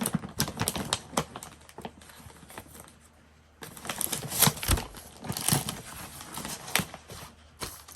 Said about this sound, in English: I'm grabbing some coffee dyed paper real quick.